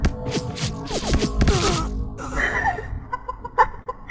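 Chickens clucking in the shooter video game Point Blank: several loud, close cluck calls in quick succession, followed by sparser game sound effects.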